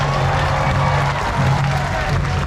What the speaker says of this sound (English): Any round of applause?